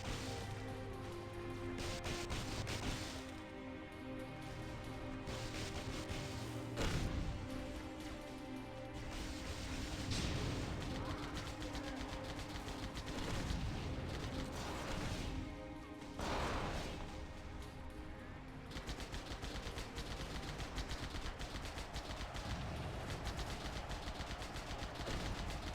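Gunfire in the SPV3 mod of the Halo video game, rapid bursts of automatic shots and impacts crackling over a busy, noisy game backdrop, fairly faint overall.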